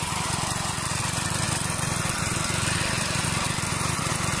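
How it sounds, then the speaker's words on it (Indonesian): The small engine of a coconut drifting machine, used to push coconuts along a canal, runs steadily nearby with a constant buzzing drone and no talk. "Adapun part-part yang ada di mesin penghanyut kelapa ini,"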